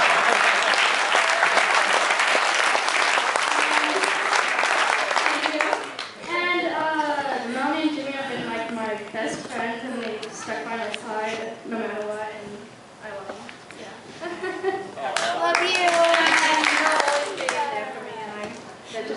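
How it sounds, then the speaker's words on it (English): Applause from guests at a family gathering after speeches honouring a grandpa: a burst of clapping opens the clip, gives way to talking voices, then rises again briefly near the end. "more big round of applause for all the speeches and the grandpa"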